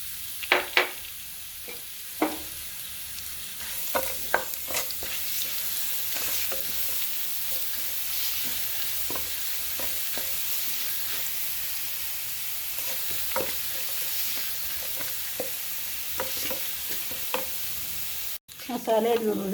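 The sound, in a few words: ground masala frying in oil with dried chillies and curry leaves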